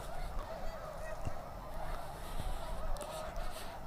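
Geese honk repeatedly outdoors near a fence, their calls overlapping at a moderate distance over steady open-air background noise.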